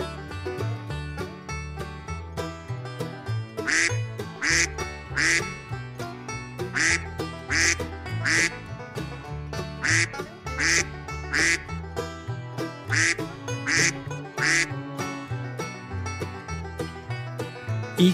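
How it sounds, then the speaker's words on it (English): Recorded duck quacking in a repeated series of nasal calls, clear and close, over layered background music that plays the whole time. "Duck."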